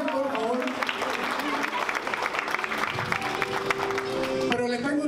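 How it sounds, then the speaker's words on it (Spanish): Guests at a baby shower in a banquet hall applaud the couple, the clapping mixed with loud party music and crowd voices, steady throughout. "Démosle un fuerte aplauso a esta hermosa pareja"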